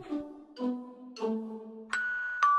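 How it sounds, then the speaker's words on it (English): A doorbell rings in a cartoon party scene with a series of soft chime tones, three lower ding-dong notes followed by two higher, brighter chimes, fairly quiet and isolated. "The doorbell rings again."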